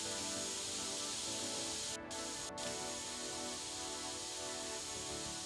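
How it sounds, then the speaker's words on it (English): Steady, loud spray-paint hiss coating a glass panel in the video game PC Building Simulator 2, continuous apart from two brief breaks where the spray stops. "Hold left click to spray the paint."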